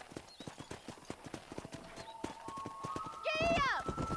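Horse hooves clip-clop steadily in Red Dead Redemption while cattle are herded, with a whinny rising near the end over game music and spoken voices.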